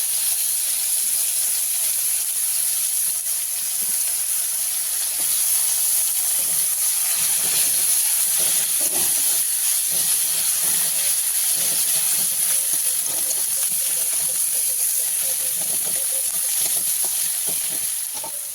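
Cinnamon, cloves, cardamom and onions sizzle in hot oil for a katla fish rezala, giving a loud, steady, hissing fry that holds unbroken for the whole stretch.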